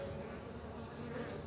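Honey bees returning to their hive loaded with pollen make a steady, dense buzzing drone that stays constant and close throughout, with no voices.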